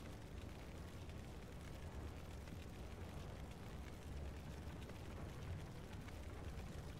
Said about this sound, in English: The tower's on fire.